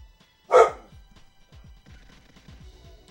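A dog in the GoldenEye 007 game for the N64 gives one loud, sharp bark, followed by quieter game sounds and faint clicks.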